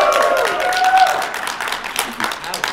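A live audience at Dragonsteel MiniCon 2021 cheers and applauds, a loud burst that fades into scattered clapping while people talk over it.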